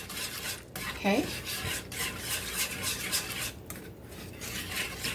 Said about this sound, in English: Now we're gonna stir it. Make sure they don't clump.